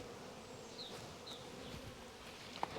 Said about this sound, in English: Hello, bee.